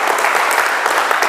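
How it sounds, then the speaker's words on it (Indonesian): A church congregation gathered at an army battalion headquarters in Garut bursts into loud, dense applause and cheering, a continuous close wash of clapping with no pauses. "Berikan sorak-sorai buat Tuhan kita yang dahsyat luar biasa"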